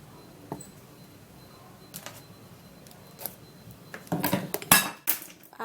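Honey being spooned into a homemade skin care mixture, giving a few soft scattered clinks and scrapes of a spoon against a bowl that grow louder and busier toward the end, with no talking.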